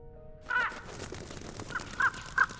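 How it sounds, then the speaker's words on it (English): A crow caws several times in a video game, with short harsh calls near the middle and end of the clip over a steady ambient bed. "black flashes across their vision as a crow swoops down from above"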